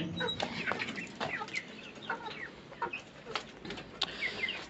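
Chickens cluck steadily at a small poultry farm, many birds calling near and around at once with occasional wing flaps over a quiet background.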